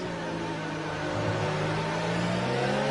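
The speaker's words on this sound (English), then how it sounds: "You can hear his car just winding out." A TCR touring car's engine in a racing video game winds out at the Baku circuit, a continuous loud whine steadily rising in pitch with no pauses or speech.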